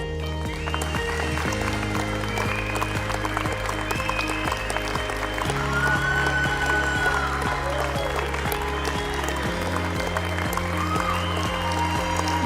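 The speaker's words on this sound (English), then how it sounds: "Give him a big round of applause" Audience applause for a graduate crossing the stage at an MBA graduation ceremony, a steady wash of clapping running throughout alongside sustained background music.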